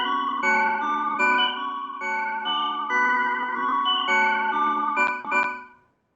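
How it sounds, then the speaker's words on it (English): A synth-like instrument sound with reverb added in Cakewalk by BandLab: sustained, chorus-tinged harmonic tones in repeated phrases, a washy tail blooming behind each note, two sharp accents near the end, then fading out. "I'm gonna add a reverb to this sound."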